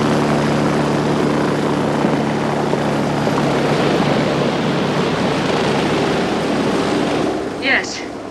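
Helicopter in flight in a movie scene, a loud steady rotor and engine roar that fills the whole clip and eases slightly near the end.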